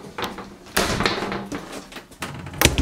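A shower door in an RV's bathroom is swung and latched back, giving several sharp knocks and clicks, loud and close, with a brief rattling bang near the end.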